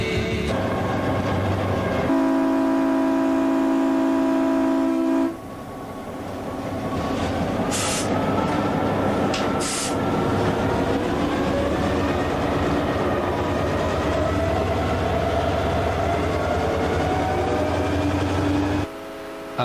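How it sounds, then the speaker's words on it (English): The Adirondack Centennial Railroad train, pulled by EMD locomotive Hercules 68, rolls past loud and close. The diesel drones with a sustained tonal whine, brief sharp squeals break in midway, and the heavy rumble carries steadily to the end. "Using the backup locomotive EMD Hercules 68"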